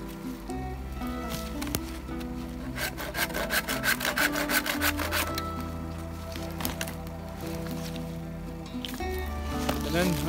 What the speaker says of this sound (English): So I'm gonna delimb the tree with my handsaw